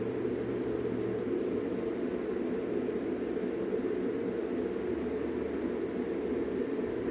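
A steady low engine drone and rushing wind from an aircraft climbing in the Stormworks video game, continuous and even throughout with no talk.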